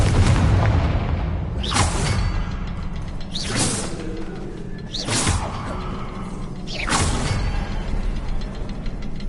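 Confringo fire spell blasts in the Hogwarts Legacy video game: four sharp explosive bursts spaced about every two seconds, each with a bright crackling flare over a steady rumbling game ambience, with no talking.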